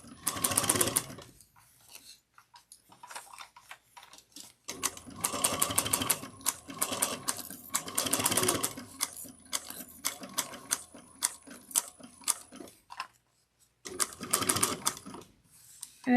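Sewing machine stitching a slouch bag, rapid mechanical needle chatter in several runs broken by short pauses, close and fairly loud with no voices.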